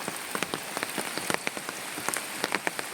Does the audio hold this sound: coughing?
no